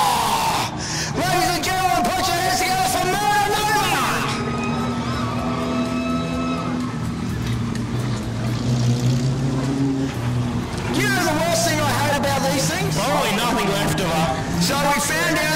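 Race cars roar past the grandstand at Rockhampton Speedway, loud engine notes rising and falling as each one goes by, with people talking over the noise.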